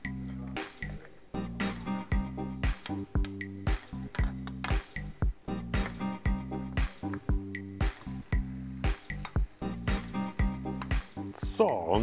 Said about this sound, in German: Die heben wir jetzt gleich mit 2 Löffeln in die Pfanne und braten uns schön die Puffer raus.